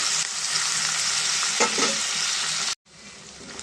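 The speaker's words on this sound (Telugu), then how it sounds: "టమాటా కూడా ఫ్రై అయింది కదండి" Tomatoes fry in a pan with onion and ginger-garlic paste, a steady loud broadband sizzle with stirring scrapes, cutting off abruptly near the end before resuming.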